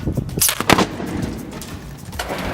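An explosive charge set off by a bomb disposal team produces loud, sharp blasts, with two heavy reports close together followed by a weaker thud and rumbling noise.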